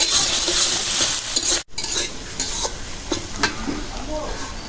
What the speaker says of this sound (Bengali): মাছ ভাজা তেলে ভাজতেছে